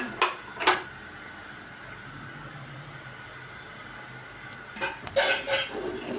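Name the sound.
stirring sugar and cardamom into boiled milk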